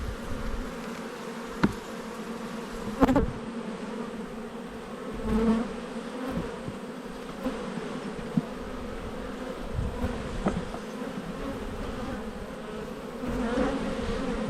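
Honey bees hum in a steady, close buzz around opened hives during a late-season inspection, with occasional louder passes near the microphone and a few faint knocks and clicks.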